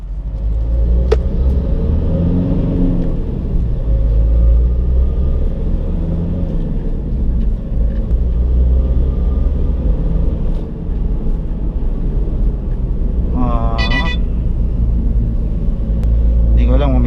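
A car engine fitted with a drop-in sports air filter revs loudly and steadily, a deep continuous rumble with the turbo spool whistling and rising near the end, close and alone without talk.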